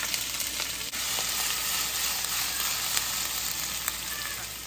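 Ginger, garlic and chili hit hot oil in a pan, producing a loud, steady hiss and sizzle heard close up without any speech, with faint scattered pops throughout.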